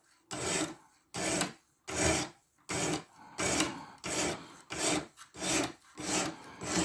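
Sitivien ST147 knife with a black-coated 14c28n steel blade drawn repeatedly across a sharpening stone, about ten even, rasping strokes in a steady back-and-forth rhythm, close and clear with no talking.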